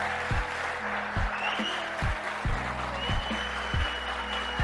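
A crowd in a large hall at a motivational talk breaks into sustained applause, a broad roar of many hands, with deep booming thuds pulsing under it at a steady, repeating rhythm.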